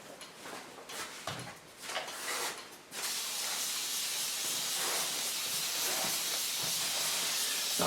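A spray bottle mists water onto hair before a haircut, starting as quick bursts of spray and then becoming one long, steady hiss; the sound is close, with no talking.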